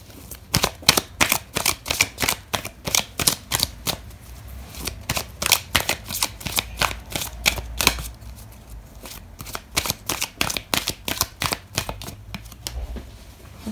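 Tarot cards being shuffled by hand, rapid bursts of crisp riffling and slapping in repeated rhythmic runs, close and clear with brief pauses between.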